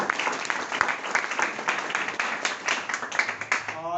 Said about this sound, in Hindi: इन दोनों के व्यक्ति के लिए एक जोरदार ताली हो।